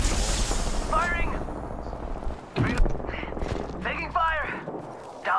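Apex Legends gunfire, with rapid shot bursts and impacts layered over game effects and a short pause in the middle, while a player talks over the action.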